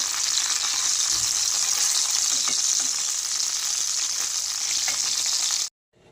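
Boal fish crackles and sizzles steadily in hot oil in a pan, a loud, dense hiss with faint scattered pops that holds evenly, then cuts off abruptly near the end.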